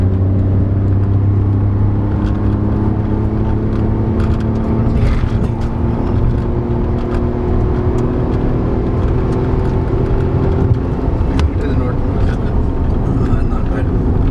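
A 2020 Tata Tiago facelift accelerates hard at full throttle, its engine drone loud and steady up toward the 6000 RPM cutoff, with rising harmonic tones and road noise throughout while people talk inside the cabin.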